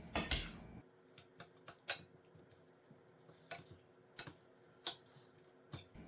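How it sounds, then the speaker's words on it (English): A spoon mixing a ground beef mixture in a bowl makes a series of irregular clinks and taps against the bowl over soft squishing, close and quiet, with no talk. "we'll just take a spoon and we will mix this all up"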